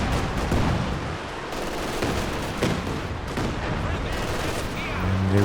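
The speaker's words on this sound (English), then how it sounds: "again it's the creeping barrage from Tulip" Creeping artillery barrage in Company of Heroes 2, a dense continuous rumble of explosions and gunfire with repeated heavier booms, loud throughout, while a commentator talks over it.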